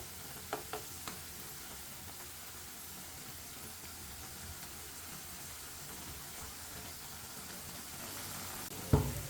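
Aloo palak pakoras fry in oil with a soft, continuous bubbling sizzle. A few faint clicks of a utensil come early, and a sharper knock sounds near the end.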